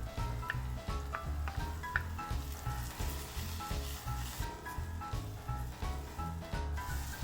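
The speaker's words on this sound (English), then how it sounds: "Fry the onions and garlic for about 3 to 4 minutes" Onions and garlic frying in a pan for a Korean soft tofu stew, a steady close sizzle with rhythmic stirring scrapes and taps throughout.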